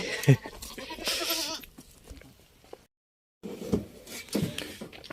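Goats bleat at a home farmyard, several loud close calls in the first seconds, then quieter rustling, a brief silence and more faint farmyard noise.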